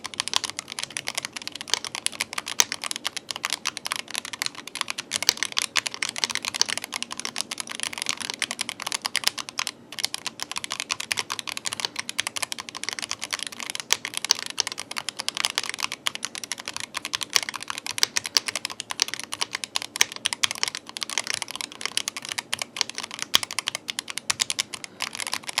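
Steady, fast typing on a YUNZII RT75 magnetic mechanical keyboard, a soft-pressing board, with dense continuous key clicks close up throughout, no talking.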